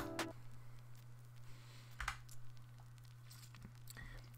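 Faint vinyl crackle in a remix intro: sparse clicks and pops over a low steady hum, quiet and close, with no voices.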